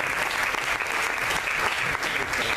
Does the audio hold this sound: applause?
yes